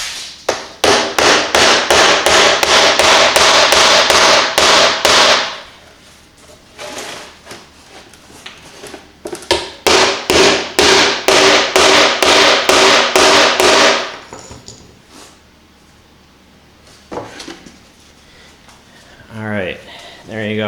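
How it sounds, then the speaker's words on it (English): Rapid, loud hammer blows pound T-nuts into a snowmobile seat in two long bursts of dozens of quick hits, separated by a pause, with a short bit of talk at the end. "now I'll just take a hammer and pound these in"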